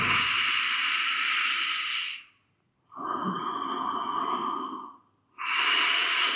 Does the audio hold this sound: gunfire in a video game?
no